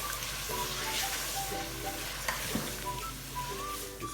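Spices sizzle and fry in a pot for beef nihari while being stirred, with a steady crackling hiss and occasional scraping clinks, close and moderately quiet.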